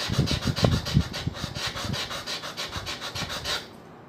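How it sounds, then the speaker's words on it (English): A steel plane iron is rubbed back and forth on sandpaper glued to a mirror in rhythmic, gritty strokes, close and steady, then stops. "i-hondi natin dito sa sandpaper na nakadikit sa mirror"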